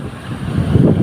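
Strong coastal wind picks up ahead of an approaching typhoon, sounding as a loud, blustery rumble that swells near the end of a short stretch, with no voices.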